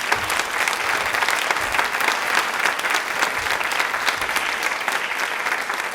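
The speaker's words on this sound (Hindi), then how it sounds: "तालियां प्लीज इनके लिए जोरदार होनी चाहिए।" Audience applause at a Women's Day special television quiz show, a dense, steady wash of clapping from a sizable crowd, sustained at even loudness throughout.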